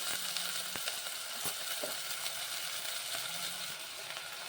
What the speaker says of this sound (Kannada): ಹಾಗೆ ಸ್ವಲ್ಪ ಫ್ರೈ ಮಾಡ್ಕೊಳ್ಳೋಣ